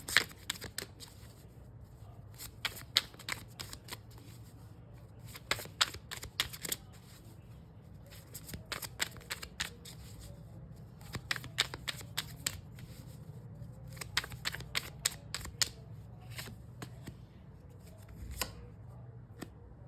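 A deck of tarot cards is shuffled by hand continuously for twenty seconds, a soft, close riffling and flicking with steady patter and occasional sharper snaps over a low room hum.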